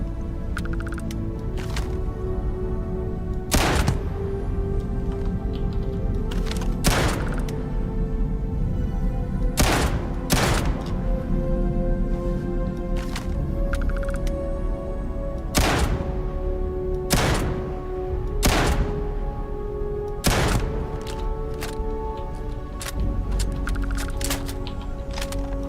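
Shotgun blasts in the game Starfield, a dozen or so loud booming shots spaced a couple of seconds apart over steady background music and ambience, with no talking.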